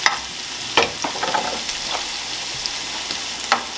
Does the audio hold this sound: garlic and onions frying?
yes